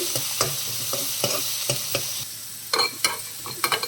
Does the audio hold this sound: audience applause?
no